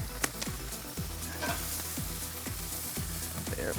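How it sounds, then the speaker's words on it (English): Grouper fish rolls crackle and sizzle on a hot grill, a steady frying hiss with scattered pops and sputters close by, with a faint background hum and no talking. "I slide the mat over to one side and slide the fish right on the grill."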